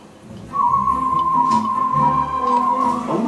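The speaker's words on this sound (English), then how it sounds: "Whistling." A person whistles one sustained, steady tone held for nearly three seconds, loud and close, with faint background noise underneath.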